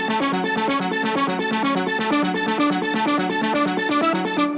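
Progressive house synth drop with distortion, flanger and reverb, a bright, dense chord pattern pulsing in a steady rhythm, loud and alone throughout.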